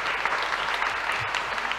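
Applause from the congregation at a Christmas Eve Mass in a Catholic parish church, a steady wash of clapping filling the short moment.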